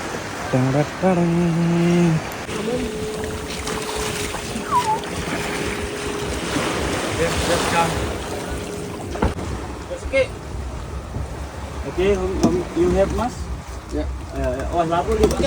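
A motorboat engine drones steadily over sea water and wind on a snorkelling trip off the Gili Islands, with people talking and calling out over the noise.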